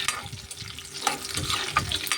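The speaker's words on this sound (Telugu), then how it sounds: "వేడి నీళ్ళలో శుభ్రంగా బాయిల్ చేసుకున్న ముక్కలు ఇదిగో చూడండి ఆయిల్లో ఇలా ఫ్రై చేసుకోవాలి మనం" Boiled beef pieces frying in hot oil while being stirred in a pan, a close, loud crackling sizzle broken by scraping stirs and irregular bursts of spattering.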